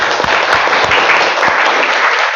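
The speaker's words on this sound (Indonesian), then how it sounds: "Tepuk tangan." Loud, dense clapping from a classroom of students, many hands beating together at close range in a continuous burst with a few heavier claps punching through.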